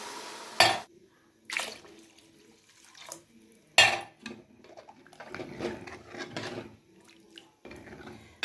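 Water poured into a cooking pot of roasted spices on a home stove, a splashing pour with clattering pot and utensil knocks, no talking.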